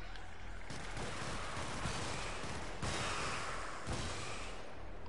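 Heavy gunfire in Helldivers, including sniper rifle shots, with dense, continuous, loud blasts and several sharper cracks spaced about a second apart, and no voices.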